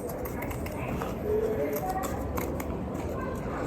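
Scissors snip through a cloth sample for a cap design, a few short crisp cuts against a steady room background with some speech nearby.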